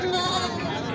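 A goat bleating at a livestock market amid the crowd babble and chatter of traders, with a person talking close by.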